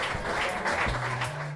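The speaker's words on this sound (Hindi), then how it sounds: "जब रेफरी पाचू को ट्रॉफी दे रहा था तो सब ताली बजाने लगे।" Audience clapping breaks out as a referee hands a trophy to the winner of a swimming race, a steady, dense patter of applause with a tone or hum running underneath.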